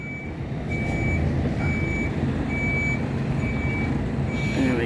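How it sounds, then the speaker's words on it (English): Truck backing its rear wheels under a trailer at night, a steady diesel engine rumble under a regular series of high reversing beeps, close and continuous. "I'm just trying to get the back wheels underneath the trailer"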